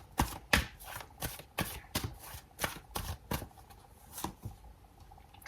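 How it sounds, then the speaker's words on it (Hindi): A deck of tarot cards being shuffled by hand, a quiet, close series of crisp riffling bursts and taps repeating in an uneven rhythm, with no talking. "मैं फिर से शफल करूँगी।"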